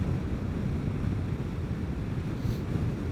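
Steady, loud wind buffeting the microphone while riding a Vespa GTS scooter, a continuous rushing roar with no voices.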